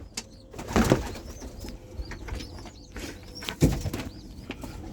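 Pigeons in a loft of young banded birds coo softly and repeatedly, with two bursts of wing flapping close by, over a steady background murmur.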